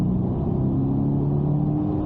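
A sports car, a Chevrolet Corvette C8 or Ford Focus RS, drones steadily on a racing circuit with a low, throaty rumble, holding a near-constant pitch as it pulls along.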